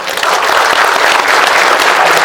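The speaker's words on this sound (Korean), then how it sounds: "박수 한번 보내주시기 바랍니다." Steady, dense applause from an indoor audience, a continuous wash of clapping that stays loud throughout.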